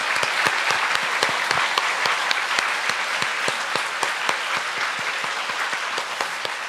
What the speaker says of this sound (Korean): big round of applause to the love of Jesus Christ.